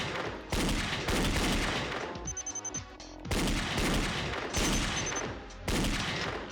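Rapid bursts of video game gunfire from a shooting mini game, loud and dense, arriving in several sustained volleys with a short pause of quieter clicking and mechanical reload sounds between them.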